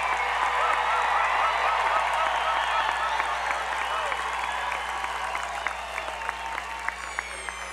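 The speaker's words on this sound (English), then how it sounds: "So I want you to applaud your graduates for what it took for them to get here." A large commencement crowd gives graduates at the CSUDH 2024 ceremony a sustained round of applause, with dense, loud, steady clapping filling the whole stretch and gradually thinning slightly toward the end.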